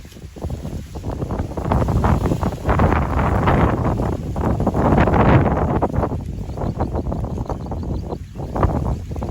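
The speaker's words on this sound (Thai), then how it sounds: "วันนี้ลมแรงมาก" Strong wind gusting through a bamboo grove in Nong Pla Mo, Ratchaburi, buffeting the microphone with loud, rough roaring surges that swell and ease over several seconds, with no voices.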